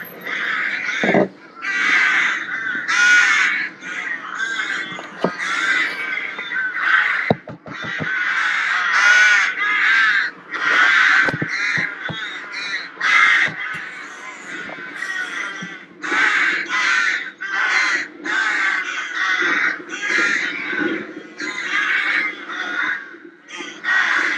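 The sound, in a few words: crows cawing at a rookery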